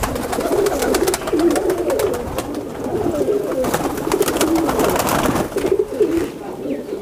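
High flyer pigeons cooing, several soft, throaty coos repeating in a steady, rolling pattern close by, with a voice talking faintly underneath and light background rustle.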